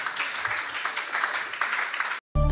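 A church congregation at a French-speaking service applauds the Lord with sustained, dense clapping that fills the room for about two seconds, then cuts abruptly to silence before another loud burst begins.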